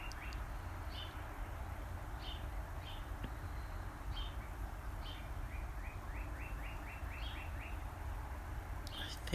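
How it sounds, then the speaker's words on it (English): Birds at sunrise in The Villages, Florida, give repeated short chirps and a quick descending trill, faint and somewhat distant over a steady low outdoor rumble. "Just listening to the birds and watching the sunrise."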